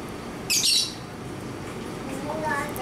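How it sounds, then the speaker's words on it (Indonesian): A tame lovebird gives a sharp, loud squawk followed later by softer chirps, close by over faint room noise. "Burung lovebird adalah jenis burung jinak yang pintar ya."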